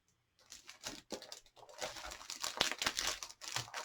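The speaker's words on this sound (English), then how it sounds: "sorry for the crinkling" Plastic packaging from a trading card collection pack crinkles and crackles close up in irregular handling bursts, with no talking over it.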